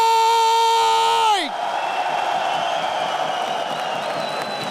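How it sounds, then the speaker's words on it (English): An arena crowd at a PGL Cluj-Napoca Counter-Strike semifinal cheers and boos in a broad, sustained roar after a descending tonal sweep from the venue sound system dies away. "Did I hear a few boos in the crowd when the name Vitality was shouted by James Banks?"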